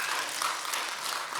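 A church congregation claps on Thanksgiving Sunday, a brief, dense wash of applause from many hands at steady loudness.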